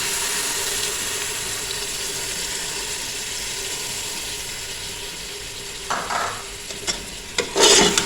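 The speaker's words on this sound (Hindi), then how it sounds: "मुझे पायों को भूनते हुए तकरीबन 10 मिनट हो गए हैं।" Mutton trotters frying in a pan with yogurt over a low flame, a steady loud sizzle with a few spoon scrapes and stirring clinks near the end.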